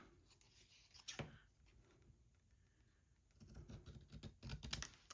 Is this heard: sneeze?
no